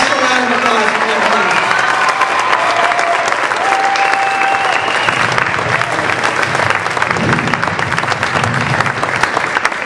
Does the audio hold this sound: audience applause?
yes